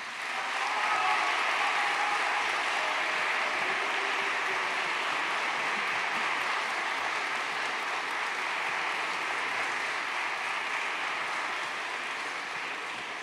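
An audience at a political event applauds, a sustained, even wash of clapping from many hands that holds steady for over ten seconds and eases slightly at the end.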